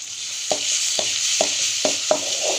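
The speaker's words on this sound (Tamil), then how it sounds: "நல்லா பச்சை வாசனை போகிற வரைக்கும் வதக்கி விட்டுக்கலாம்" Chilli powder and ginger garlic paste sizzle steadily in hot oil for a mushroom dish, with a handful of sharp spoon scrapes against the pan at regular intervals over the continuous frying hiss.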